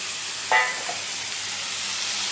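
Boiled taro leaves and hilsa fish heads going into a hot frying pan: a soft, steady hiss and sizzle with a brief louder clatter as the pieces land, close up and unaccompanied by talk.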